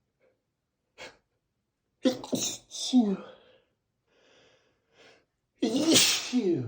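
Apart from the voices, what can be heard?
sneezing during a job interview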